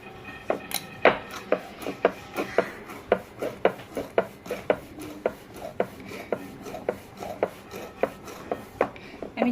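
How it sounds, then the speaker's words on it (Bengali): Dhakai paratha dough being rolled out on a board, a regular run of soft thumping knocks from the rolling pin, about two per second, close and fairly quiet with no talk. "দেখো বন্ধুরা, এটা হচ্ছে ঢাকাই পরোটা বেলছি।"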